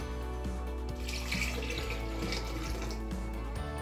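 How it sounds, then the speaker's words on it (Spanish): Water pouring steadily into a blender for green pipian sauce, a continuous splashing gush over a low appliance hum, close and unbroken. "Vamos a ponerle agua."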